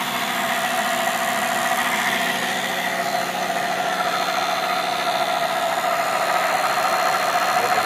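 Steady, loud mechanical whir and hum from a motor generator spinning its wheel above 2,000 RPM, holding an even drone without pause and with no voices.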